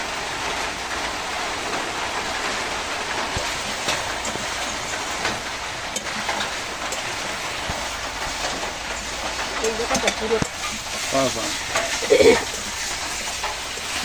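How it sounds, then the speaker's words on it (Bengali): Snake gourd and potatoes sautéing with spices in a pan, a steady hissing sizzle like rain, moderately loud, with a few clinks near the end. "আর এখন আমি এই চিচিঙ্গাগুলো দিয়ে দিচ্ছি, এটা দিয়েও একটু ভালো করে কষাবো।"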